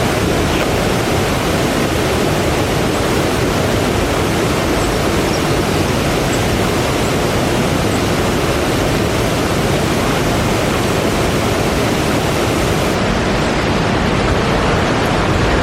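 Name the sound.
Rydal Grot waterfall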